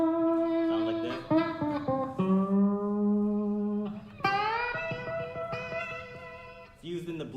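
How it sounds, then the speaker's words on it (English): An electric guitar played with a slide in a faculty recital setting gives gliding, swooping notes that bend smoothly between pitches, moderately loud and alone. "It's called a guitar slide"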